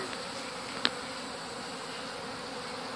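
A swarm of bees marching into a box makes a steady, droning hum that holds even throughout, with one brief sharp tick partway through.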